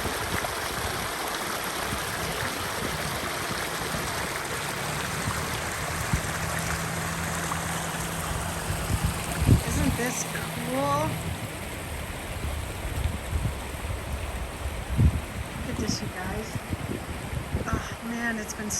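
Stream water flowing beside a back-country trail, a continuous soft rushing trickle under a voice talking.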